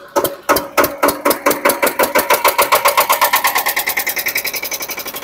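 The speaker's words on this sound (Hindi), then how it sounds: "आप देख सकते हो ये स्टार्ट हो चुका है एशर का 14 एचपी का एयर कूल्ड इंजन" A 14 HP air-cooled Eicher diesel engine driving a 15 kVA Crompton generator cranks on electric start, fires and speeds up into a loud, steady, rapid chugging beat close by, with no talk over it.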